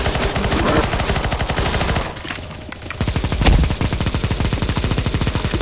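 Sustained rapid automatic gunfire fired at the boss in a Counter-Strike: Global Offensive zombie escape match on the Temple of the Demon God map. The fire is loud and close, breaks briefly midway, then resumes in dense bursts.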